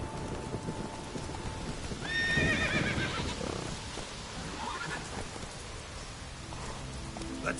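Roach, a horse in a PS4 video game, whinnies loudly at mid-clip amid steady clip-clopping hooves at a gallop over a rain-like hiss, with no talk.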